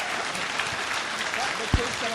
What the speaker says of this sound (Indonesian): Beri tepuk tangan dulu Bapak Ibu Saudara.